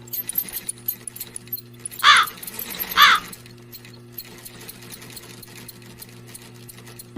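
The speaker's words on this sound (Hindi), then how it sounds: "वो अपनी माँ की सिलाई मशीन निकाल कर उस पे सिलाई करने लगती" A mother's sewing machine stitches in two short, loud whirring bursts about a second apart, over a steady low background hum.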